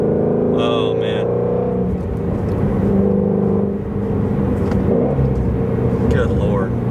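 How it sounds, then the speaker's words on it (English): A Shelby GT350 engine rumbles steadily while driving in fourth gear around 3,000 RPM, with a low continuous drone and occasional faint burbles, and someone talking over it. "with the Resonator delete, it'd be like popping and burbling a lot right there, where mine will burble every now and then"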